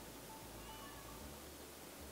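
A cat meows in Stardew Valley, the soft in-game call rising faintly over a steady ambient hiss, alone with no voices.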